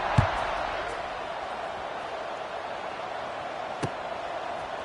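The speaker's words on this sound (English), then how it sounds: "this crowd is buzzing after that last score" A football stadium crowd at a Liberty vs UConn game gives a steady, dense roar that holds throughout, broken by a couple of sharp knocks.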